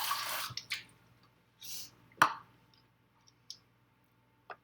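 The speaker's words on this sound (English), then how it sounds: "I'm gonna rinse my water cup out." A water cup being rinsed at a sink: a few short splashy bursts and drips with clicks and small plops, close and fairly quiet, separated by brief pauses with no talking.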